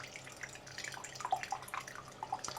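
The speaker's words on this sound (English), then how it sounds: "Let's pour my tea first." Tea poured from a teapot with loose leaves into a mug: a quiet, light trickle with small drips and splashes, close by and with no talk.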